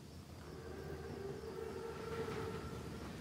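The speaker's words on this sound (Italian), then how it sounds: "Il treno è puntuale. È un treno così grande." A German armored train, a Panzerzug, rumbling in a World War II shooter game, a faint steady low roll with a thin sustained whistle-like tone rising over it.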